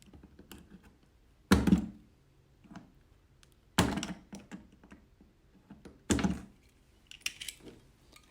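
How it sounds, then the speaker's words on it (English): A blade cuts a piece out of a plastic panel of a 5-layer 9.5-inch grow-out pen. Three sharp, loud cracking thunks are spaced a couple of seconds apart, with faint small clicks between them. "this piece will have to be cut out. Simply take your blade"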